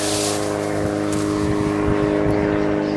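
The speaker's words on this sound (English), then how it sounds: "Sorry about the sound of the aircraft." A continuous low engine drone with a steady hum fills the background, loud and unbroken throughout, like an aircraft passing overhead.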